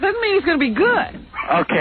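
A dog yips and whimpers in the background of a telephone call to a radio talk show, its thin, band-limited cries mixing with someone talking over the line.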